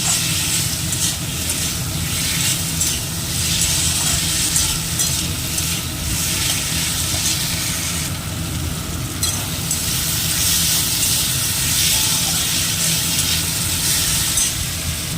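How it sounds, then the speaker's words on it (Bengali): Ginger and garlic paste sizzles and fries steadily in a hot pan, a continuous close hiss with occasional stirring scrapes throughout, no talking. "আদা বাটা রসুন বাটা দিয়ে দিলাম, দিয়ে আবার একটু নেড়ে চেড়ে ভেজে নিচ্ছি।"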